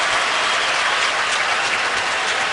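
Stadium crowd at an NFL game between the Raiders and Steelers applauding an injured player, a dense, continuous wash of clapping from a large distant crowd.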